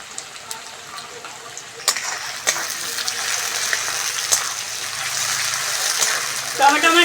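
Onions and tomato fry in a pan for a curry, producing a continuous bright sizzle that builds in the second half, broken by a few clanks of a spatula near the end.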